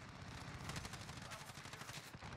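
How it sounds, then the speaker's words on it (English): Sustained rapid gunfire from a military video game, a steady dense rattle of shots at moderate distance, fairly quiet and continuous with no pause. "This is Horseman 3. We're taking fire."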